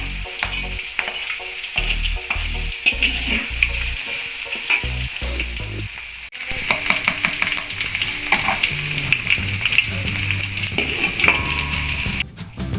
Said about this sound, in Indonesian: Kita goreng dulu bawangnya.